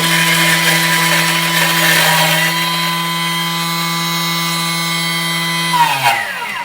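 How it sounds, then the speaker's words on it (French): Thermomix blades spinning at speed 10 chopping parsley, a loud steady high-pitched whir that holds evenly before winding down at the end. "Je vais mettre les couteaux à vitesse 10. Et je vais venir mettre mon persil."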